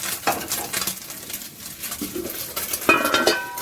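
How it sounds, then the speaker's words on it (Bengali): Small morola fish frying in a pan in a home kitchen, a steady broadband sizzle running throughout with occasional clinks of a utensil against the pan, no talking. "এদিকে ভাজছি মোরলা মাছ"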